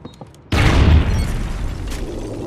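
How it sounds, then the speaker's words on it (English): Stun grenade detonating in Call of Duty: Ghosts, a single sharp loud blast after a quiet moment, followed by a lingering rumbling decay. "Toss him a stun grenade."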